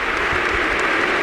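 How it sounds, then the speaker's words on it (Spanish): Stadium crowd applause at an Athletic Club vs Deportivo Alavés LaLiga match, a dense, continuous roar of clapping and crowd noise, loud and enveloping with no distinct voices. "Otro aplauso grande para él."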